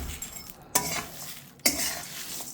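Spices frying in a pot hiss steadily under two sharp scraping strokes of a stirring spoon against the metal, each followed by a louder burst of sizzle, with no talk.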